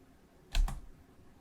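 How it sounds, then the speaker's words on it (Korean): A single quick press of a computer keyboard space bar, a close double click of key down and release, alone against a quiet room background. "스페이스바 눌러서 확인해 볼게요."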